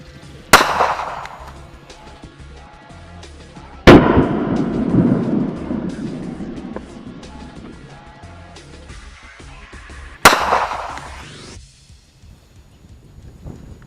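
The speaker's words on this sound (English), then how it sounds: "shooting peanut butter puts tremendous pressure on the lid" Three loud, sharp gunshots fired at a jar of peanut butter, spaced several seconds apart, each cracking hard and ringing out with a long outdoor echo that trails off between shots.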